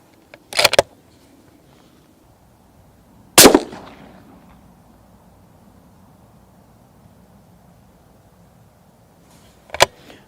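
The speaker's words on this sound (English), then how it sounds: "So let's load up the rifle and take our first shots." Sauer 100 rifle fired at night through a Sightmark Wraith night-vision scope; three sharp, loud single shots spaced several seconds apart, each fading quickly into quiet background hiss.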